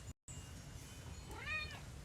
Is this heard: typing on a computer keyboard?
no